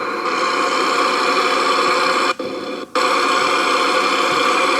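Truck engine droning steadily in American Truck Simulator, a loud continuous hum broken by two brief dropouts, with no talking.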